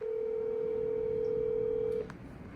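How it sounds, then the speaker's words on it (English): A phone call to a giveaway winner rings out as a single steady, loud ringback tone that holds for about two seconds, then cuts off with a faint click, leaving quiet room noise. "Let's give Ryan a call"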